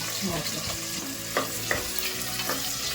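One or two chopped onions sizzling in hot oil for a quick lunchbox rice, a loud, steady crackling fry with a few spoon-stirring clicks and scrapes layered on top.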